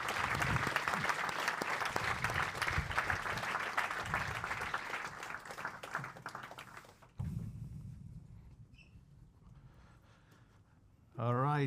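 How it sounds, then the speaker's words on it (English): An audience applauding to welcome a guest named Guido on stage at an AI conference, dense clapping for several seconds that fades, then a voice speaking briefly at the end. "We are super happy that Guido's here, just giving a big applause."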